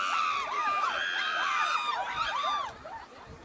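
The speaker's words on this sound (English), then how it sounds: "It is senior night here. It's a lively crowd," Crowd at a Friday senior-night high school boys soccer game, heard as overlapping whistles and whoops rising and falling in quick swoops, fairly close and lively, with some chatter underneath.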